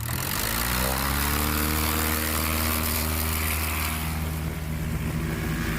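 A small airplane roars close by as it takes off at a STOL short-takeoff event, its loud propeller drone steady throughout with the engine pitch shifting as it climbs away.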